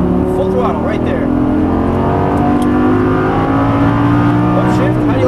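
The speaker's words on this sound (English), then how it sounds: "a little bit of gas, a little bit more, a little bit more. Full throttle right there." A Lamborghini Gallardo V10 accelerates at full throttle on a racing circuit, a loud, close, steadily rising engine roar with harmonics climbing continuously, while a voice talks over it throughout.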